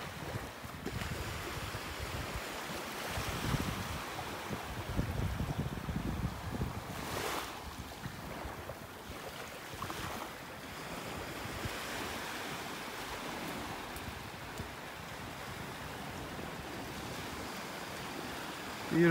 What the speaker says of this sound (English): The sound of the waves breaking on the shore. So relaxing.